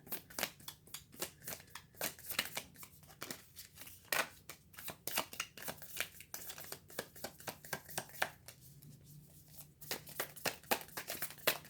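New, slightly sticky tarot cards are shuffled by hand close up, a quick run of crisp snapping riffles and soft slaps repeating in uneven bursts, with no voices.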